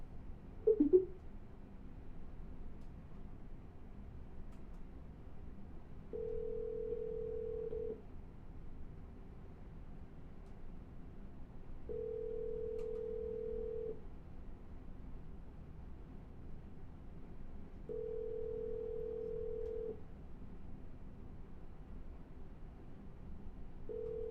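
A telephone line plays a low, steady tone, and regular two-second beeps repeat every few seconds at an even pace. A faint click comes near the start. The sound is quiet and close, with no talking.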